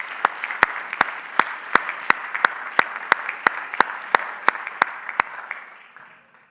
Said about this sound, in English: So let's give a big round of applause to our Train the Trainers